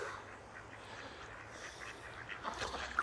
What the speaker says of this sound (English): And a lot of plain ducks.